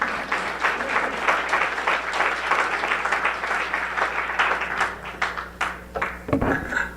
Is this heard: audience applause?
yes